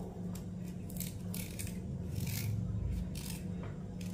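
Ginger is cut in a few short, soft scraping strokes, faint and close, with no voices.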